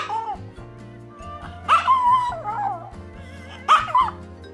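A small Pomeranian yips and barks in short sharp bursts, mixed with whiny, whimpering cries, close and loud against quiet pauses.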